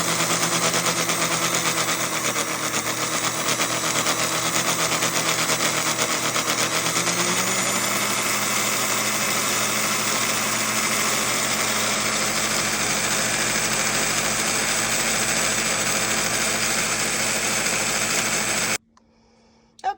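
A bobbin winder on a longarm quilting machine spins steadily as it winds thread onto a bobbin, a continuous high motor whir that holds loud and unchanging for the whole stretch before stopping abruptly near the end.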